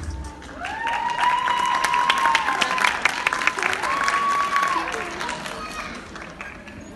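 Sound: studio audience applause

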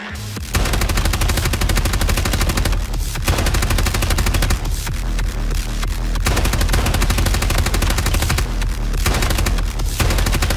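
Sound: gunshots in video game Ground Branch

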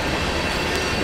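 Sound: NS freight train with Dash 9-40CW locomotives passing

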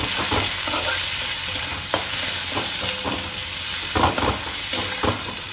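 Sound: onions and five-spice tempering frying in oil

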